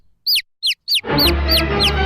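A chick chirps outdoors in a series of about six sharp, descending peeps at an even pace. The first few ring out alone in quiet, then the rest continue over a rising rumble of background noise.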